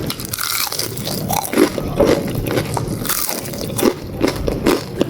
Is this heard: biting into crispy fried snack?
yes